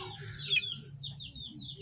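A Golden Boy Street Comb chicken pair gives soft, close clucks over a steady low background hum, with one slightly louder call near the start and no talking.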